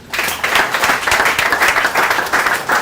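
Audience at a school competition show clapping warmly in a dense, close burst that pulses gently in waves for a few seconds, with no talking over it.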